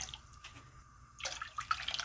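Water poured from a cup into a pot for miso ramen, a soft splashing pour that swells after a quiet start, close and alone.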